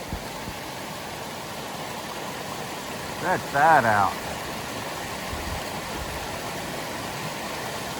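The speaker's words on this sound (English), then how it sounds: "I'll show you guys a pretty cool waterfall here." Waterfall along the Appalachian Trail, a steady broadband rush of falling water filling the whole clip at moderate level, with someone briefly speaking over it.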